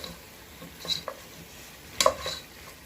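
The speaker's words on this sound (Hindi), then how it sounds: "फिर हम इसको फ्राई करेंगे।" Mutton chops fry in dry masala in a pan and are stirred. Two short scraping bursts of the spoon stand out over a faint, quiet sizzle.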